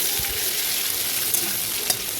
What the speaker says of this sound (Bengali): পেঁয়াজ দিয়ে ভালোভাবে ভেজে নেব।